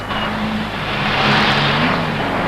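Glasgow city street traffic in 1974, with a car passing close and loud, its engine revving and swelling in a broad roar before easing off.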